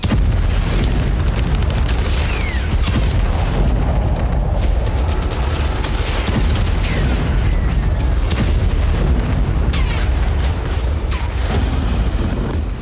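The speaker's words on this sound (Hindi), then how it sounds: "हिजबुल्लाह के ठिकानों पर इजराइल ने भीषण बमबारी की।" Heavy, continuous rumbling blasts from an Israeli air strike bombardment in Lebanon, loud and dense, with repeated booms and crackling bursts filling the whole stretch without pause.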